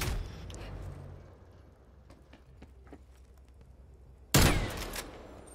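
Gunfire in Call of Duty: Cold War: a loud burst at the start, then sharp, distant-sounding single cracks scattered through a quieter stretch, followed by a heavy close volley near the end.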